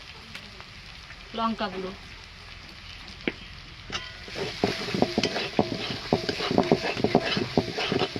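Spice paste of ground chili, coriander and cumin frying in a pan for a crab curry, with close, irregular scraping stirs over a steady sizzle that grows busier toward the end; a voice speaks briefly near the start.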